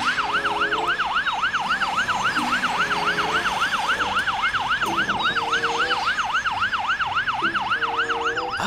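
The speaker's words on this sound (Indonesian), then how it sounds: "Namanya adalah ambulans" A rapid, continuous electronic wail cycles up and down in quick repeated sweeps, loud and steady throughout, like a toy ambulance siren.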